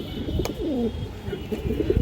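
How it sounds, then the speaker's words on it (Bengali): Large Indian high-flying Kaldom pigeons give a soft rolling coo, a single low call near the middle of a short, quiet stretch without speech. "বিগ সাইজের এক পার কালদম কবুতর আছে ইন্ডিয়ান হাই ফ্লাই কালদম কবুতর"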